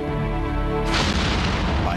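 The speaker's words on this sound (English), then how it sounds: "explosions rock the factories and rail lines" A deep, booming explosion at factories and rail lines bursts out partway through, its broad rumble swelling over steady background noise and lingering to the end.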